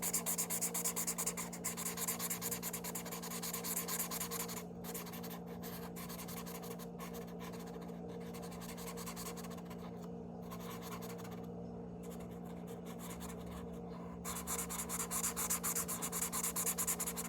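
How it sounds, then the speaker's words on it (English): A colored pencil scratches across paper in soft, quick strokes, near and quiet, with brief pauses between bursts of coloring and faint breathing. "I'm gonna use this colored pencil to see if I can't."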